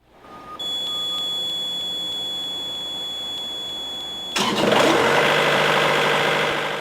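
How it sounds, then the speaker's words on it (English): A Carrier refrigeration unit's buzzer holds a steady electronic tone for about four seconds before the diesel engine cranks and roars loudly to life and keeps running. "a 5-second buzzer will sound just before the engine cranks and the unit starts up automatically"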